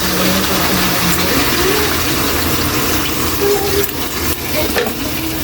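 Catfish simmering in coconut milk (ginataang hito) with vinegar being ladled in, a steady close bubbling and stirring sizzle filling the whole stretch with light scraping, no talk.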